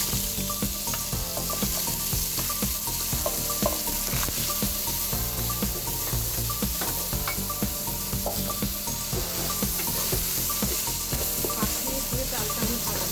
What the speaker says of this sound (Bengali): এটার মধ্যে চালটা ঢেলে দিয়ে চালটা ভাজবো।